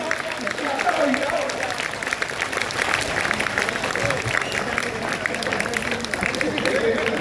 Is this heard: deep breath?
no